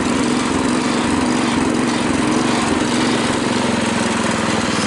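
Engine of a Husky 600 lawn tractor runs loud and close with a steady buzzing drone whose pitch pulses up and down in a cycling surge, with no talking.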